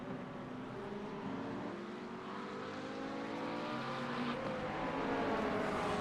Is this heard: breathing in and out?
no